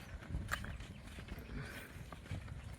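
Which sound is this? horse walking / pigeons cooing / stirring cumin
horse walking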